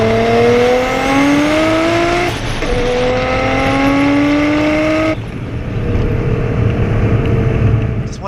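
A modified 1995 Nissan Skyline R33 GT-R six-cylinder engine pulls hard at full throttle, its loud rising howl climbing through a gear change, then settling into a lower drone with road rumble.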